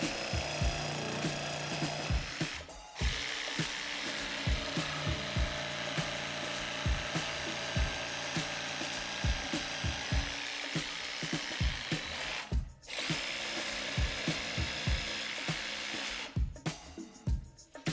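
A jigsaw cuts through a wooden board, buzzing loudly and steadily for long stretches with brief pauses between passes and a rapid chattering of the blade underneath.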